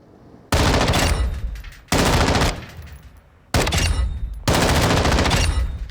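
Automatic weapon fire on a firing range in Call of Duty Modern Warfare, with four loud, close sustained bursts of rapid gunfire separated by short pauses.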